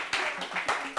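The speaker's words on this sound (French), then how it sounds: "Applaudissons." An audience applauding, a short burst of rhythmic clapping with a few distinct hand claps, heard close and fairly loud, with no talking.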